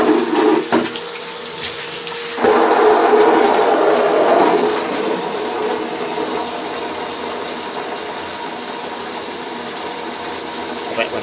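A household tap runs steadily, its broadband hiss surging louder for a couple of seconds before settling back to a constant flow, with no talking over it.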